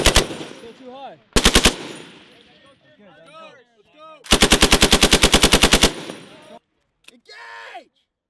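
Machine gun bursts at a military range during an assault amphibian battalion drill: a short burst, a second brief burst, then a long rapid string of close, loud shots, with shouted voices between bursts.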